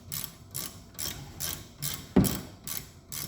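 A ratchet works bolts loose from the rear brake caliper of a Ford Mondeo Mk5, giving a close, steady series of soft rhythmic clicks about twice per second, with one sharper knock partway through.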